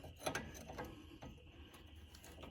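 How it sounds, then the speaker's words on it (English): A hand wrench works a bolt on Jeep XJ steering, giving faint ratcheting clicks, a few quick ones near the start and then scattered softer clicks. "got it with a regular wrench out"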